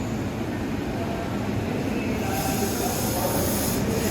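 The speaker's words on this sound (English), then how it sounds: "Long Island Railroad's Tunaville trolley" Long Island Rail Road train rolling past at a steady, fairly loud level, a continuous rumble of wheels and cars with a broad hiss. There is no clear squeal and no speech.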